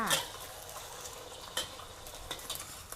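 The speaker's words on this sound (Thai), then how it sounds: "เราก็เจียวไข่ตามปกติเลยค่ะ" Beaten egg omelette frying in oil in a pan over medium heat, a soft steady sizzle broken by a few scrapes and clinks of a utensil against the pan.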